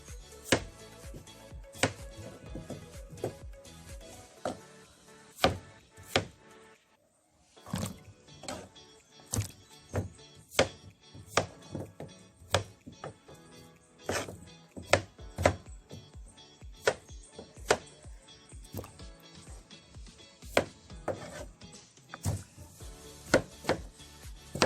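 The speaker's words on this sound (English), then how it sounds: "peeling the yam and then cut up the yam and then wash it." Peeled yellow yam being cut up for a Jamaican conch soup, the knife striking a board in steady, crisp chops close by, with a brief pause partway through before the cutting resumes.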